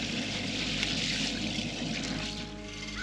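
Water streams from a BougeRV camp shower water heater onto hands being washed, a continuous close hiss and splatter of flowing water at moderate level, with no talking.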